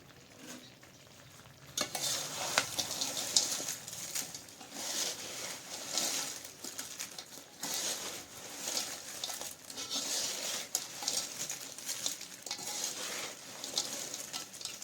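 Homegrown banana slices fill a pan, frying into banana chips while being stirred: a steady oily sizzle with repeated scraping and rustling stir strokes, close and continuous.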